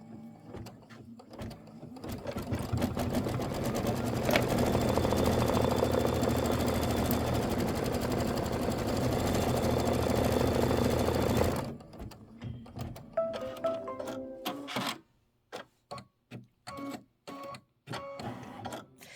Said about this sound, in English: Okay, now it's stitching out the antenna.